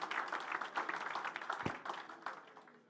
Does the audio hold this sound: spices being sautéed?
no